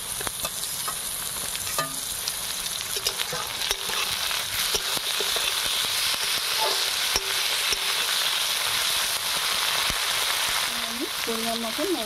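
Softened onion and chopped tomato sizzle and fry in a pan, with steady crackling broken by repeated scrapes of stirring, under someone speaking Bengali.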